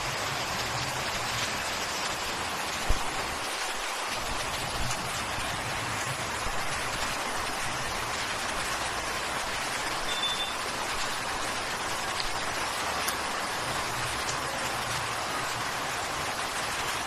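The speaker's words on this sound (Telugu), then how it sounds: "కొన్ని చోట్ల వర్షాలు కురుస్తున్నాయి." Rain falls steadily in Telangana during a spell of heavy rain: a constant dense hiss of drops on surfaces, even and moderately loud across the whole stretch, with no voices.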